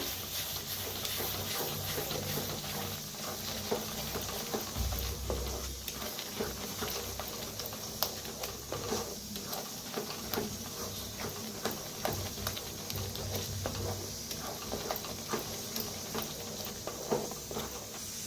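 Masala with turmeric, chicken masala and red chili powder roasts in a pan, a low steady sizzle broken by soft irregular popping and spatter ticks, close and fairly quiet, with no one talking.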